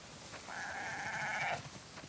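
A single sheep bleats in The Last of Us Part II on a farm, one drawn-out wavering bleat lasting about a second, moderately close over faint ambient noise.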